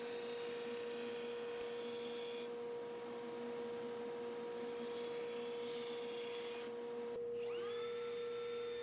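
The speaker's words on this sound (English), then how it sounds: "hit it on the little edge sander just to fine tune that cut" A small bench edge sander smooths the edge of a wood cut while building a vertical queen Murphy bed, its motor giving a steady, loud whine that runs continuously and shifts pitch slightly near the end.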